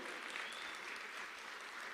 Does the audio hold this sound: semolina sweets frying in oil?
no